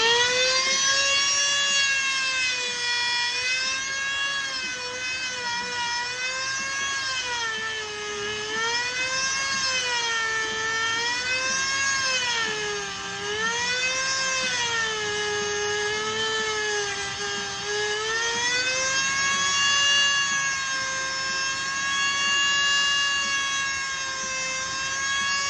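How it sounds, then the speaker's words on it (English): An Eastwood tungsten grinder run at full speed to sharpen tungsten for TIG welding, giving a loud, steady motor whine that wavers slightly in pitch and runs continuously with no talking. "we got our Eastwood tungsten grinder. Turn it all the way up"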